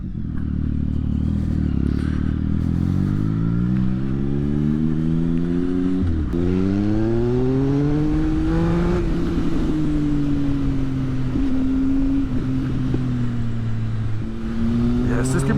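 A 2016 Triumph Speed Triple R naked motorcycle accelerating hard, its engine note climbing through the revs, dipping briefly at gear changes, then pulling up again. Wind rush runs underneath, and a rider speaks over it.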